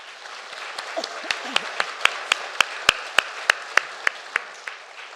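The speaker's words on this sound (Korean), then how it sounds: "하나님께 감사와 영광의 박수를 올려드리도록 하겠습니다" A church congregation at a Korean Sunday morning service applauds in thanks at year's end: a wash of clapping with sharp, evenly spaced claps standing out in a steady rhythm, swelling and then easing over about five seconds, with no talk.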